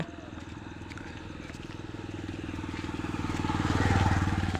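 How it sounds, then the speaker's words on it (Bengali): A motorbike passes close by on a street, its engine thrumming steadily and swelling louder as it nears, peaking toward the end. "তো একটা বাইক আসছে,"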